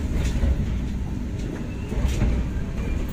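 Interior rumble of the Argo Cheribon passenger train running from Jakarta to Cirebon, a steady low roar with faint rhythmic rail clatter and no voices.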